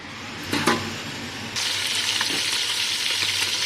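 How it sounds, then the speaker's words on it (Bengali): Meat hits a hot pan of onions, and a loud, steady sizzle of frying sets in after a few clanks and stirring knocks, continuing without talk. "মাংসগুলো পেঁয়াজের ওপরে দিয়ে দিচ্ছি।"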